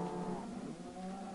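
Minecraft cows mooing in a farm pen, a steady low bovine drone held for the whole moment, close and fairly loud with no talk over it.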